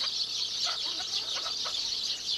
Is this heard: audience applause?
no